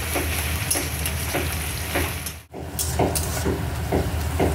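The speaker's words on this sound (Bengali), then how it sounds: "দেখুন বেরেস্তাটা আমি তৈরি করছি। একটু হাই ফ্লেমে একটু ধৈর্য ধরে ভাজতে হবে।" Onions frying on a high flame in plenty of oil for biryani birista, a steady close sizzle with crackling bursts throughout and one brief dip in the middle.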